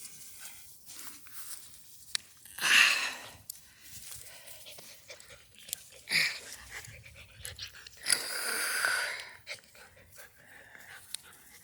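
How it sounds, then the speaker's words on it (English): Puppies pant in quick breathy bursts close by, with scuffling, patter of paws and small rustling between them. "Let's go check out these puppies for a minute."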